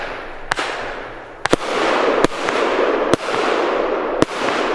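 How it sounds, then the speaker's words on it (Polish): A 192-shot fireworks compound cake fires from roughly 40 to 50 metres away, sending sharp launch bangs every second or so, each followed by a crackling, hissing burst that fades out. "Leci nasz kompodzik 192 strzały."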